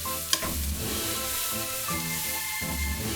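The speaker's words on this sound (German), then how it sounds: "Bohnenstreifen in die Pfanne geben. Ein paar Minuten braten." Strips of green beans fry in a pan with fresh spices and oil for a Chinese-style dish, giving a loud, steady, continuous sizzle with a brief clink near the start.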